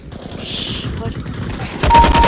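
Automatic gunfire from an assault rifle in the CS:GO video game, rapid bursts crackling in the foreground and growing louder and denser toward the end.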